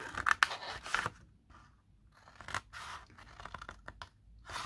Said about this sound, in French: On va venir couper tous nos petits ailettes là jusqu'à la première perpendiculaire